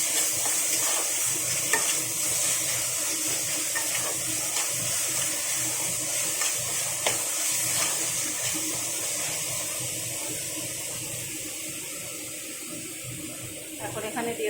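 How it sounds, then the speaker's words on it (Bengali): Spice paste with salt sizzles and is stirred in a pan while an egg curry is cooked, giving soft, steady frying noise with scraping stirs throughout, and a voice talks over it at times. "দিয়ে মশলাটাকে আরও একটু সুন্দর করে ভেজে নেব"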